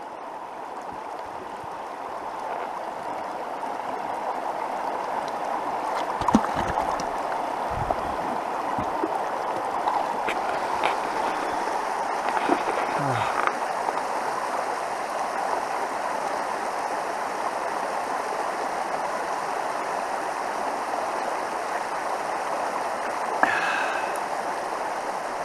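A clear mountain stream runs steadily with a broad, even rush of water up close, constant throughout with a few faint knocks and splashes.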